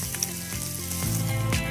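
Chopped ginger goes into hot oil, making a close, bright sizzle with bubbling crackle that swells slightly over a short stretch, with a low hum underneath.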